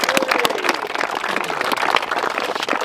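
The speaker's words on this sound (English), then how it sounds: "Massive round of applause." A small crowd at a carp fishing social event gives a round of applause for an angler, brisk close clapping from a handful of people with a brief voice in the background.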